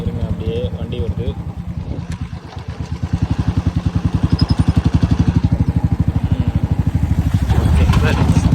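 A road vehicle passes close by over a steady, rhythmic motorcycle engine chug, loud and near throughout, louder toward the end.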